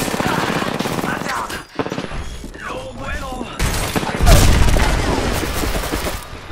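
Gunfire in the shooter game Apex Legends plays as loud, dense bursts of rapid shots and booms. It runs through the whole stretch, with heavy thumps near the end and voices mixed in among the shots.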